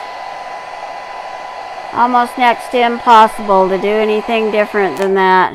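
A blow dryer runs with a steady whirring hum throughout, while a person talks over it after the first couple of seconds.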